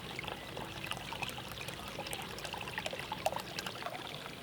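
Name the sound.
pouring a bottle of rosé wine into punch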